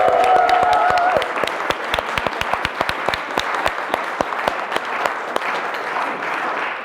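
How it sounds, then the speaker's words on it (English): Audience at the SPEAKup Challenge in Manchester applauding the speaker Harriet Newton: a brief tone at the start, then a full round of clapping that thins into loud, distinct individual claps. "Give me a huge, thunderous round of applause for Harriet Newton."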